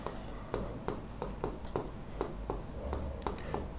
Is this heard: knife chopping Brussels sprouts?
no